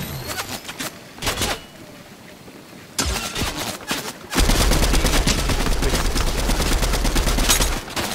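Gunfire in a Fortnite no-build squads match: scattered sharp shots and short bursts, then sustained rapid automatic fire, loud and close, with brief pauses between volleys.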